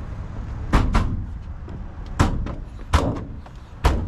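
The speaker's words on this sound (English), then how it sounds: "Very nice slam latch doors." Storage compartment doors with slam latches on a large Class A gas motorhome shut four times, sharp loud thuds at irregular intervals over a low outdoor background with no talk.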